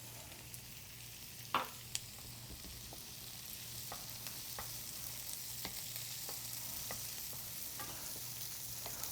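Drained black beans fry with a tofu scramble in a pan, a soft steady sizzle at moderate distance with occasional spoon taps and a sharper knock near the start.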